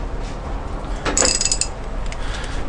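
A ratchet turns a compensator bolt on a Harley Davidson, giving one short burst of mechanical clicking in the middle of a steady background hum, close up and fairly loud.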